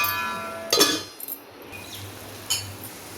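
A metal lid clinks onto a pot of kuzhambu as it comes to a boil, with a sharp clatter followed by a couple of lighter taps and a faint simmering hiss underneath.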